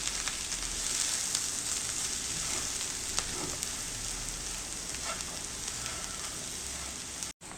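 A potato mixture with garam masala is stirred in a hot pan for a sandwich filling, giving a continuous close sizzle with faint scraping and occasional soft clicks, no one speaking, cutting off briefly near the end.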